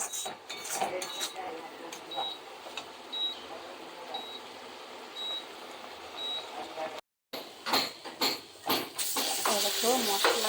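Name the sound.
frying spice masala in a pan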